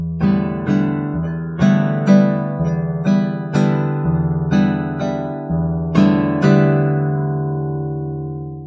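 Guitar waltz accompaniment at a quicker tempo, bass notes alternating with pairs of finger downstrokes, bright ringing strums close up, ending on a sustained chord with no talking.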